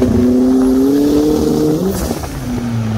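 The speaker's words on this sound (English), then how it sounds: "See some rolling launch control?" A Polaris RZR Pro R UTV with a LaRue Performance turbo kit and standalone ECU making a rolling launch, its engine note climbing loudly and steadily from inside the cab, dipping briefly at a shift before pulling again.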